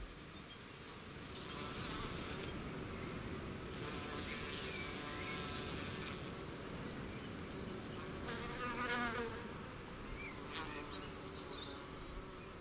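Insects buzz around flowers in an Australian forest, a steady close drone of flies and bees that swells and fades as they pass, with one brief sharp click near the middle.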